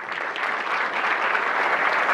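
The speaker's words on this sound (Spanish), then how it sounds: "Un aplauso muy grande." An audience at a talk on AI agents and the future of work applauds in a dense, even wash of clapping that swells slightly and holds steady for about two seconds.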